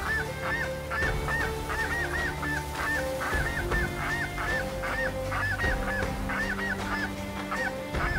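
Flock of geese flying in over a Hudson Bay goose hunt, honking repeatedly in a dense, overlapping chorus that runs steadily and loudly throughout.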